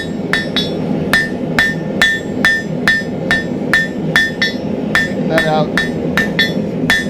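A blacksmith hammers a taper into hot steel stock, with about a dozen sharp, ringing blows at a steady rhythm, close and loud, and a few quiet words in between.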